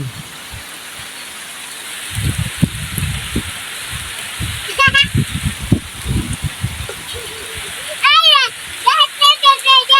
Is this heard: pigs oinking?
no